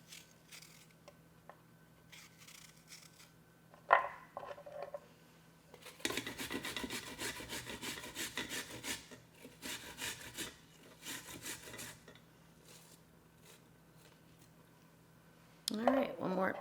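A cored, peeled Granny Smith apple is shredded, giving bursts of soft rasping scrapes from about six seconds on, quiet and close, with brief handling noises before.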